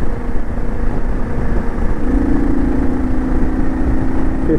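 A 2012 Kawasaki KLR 650, a liquid-cooled single, pulls steadily uphill while gaining speed, its engine drone continuous and close with a rising tone partway through and wind rush underneath.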